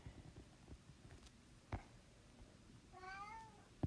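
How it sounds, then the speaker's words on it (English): A pet cat gives a single rising meow near the end, fairly faint and close in a quiet indoor room, after some soft rustling and a light thump. "Meow."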